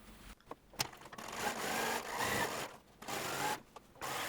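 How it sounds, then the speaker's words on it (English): A sewing machine stitches a dress sleeve seam in short, quiet runs of whirring broken by brief stops and handling noises, close but low in level with no voices. "Next, I will stitch the sleeve seam, matching the notches"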